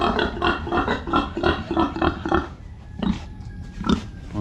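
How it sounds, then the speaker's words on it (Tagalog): Rhythmic grunting oinks repeat in a quick series, close and fairly loud, followed by a few scattered snorts. "Baboy."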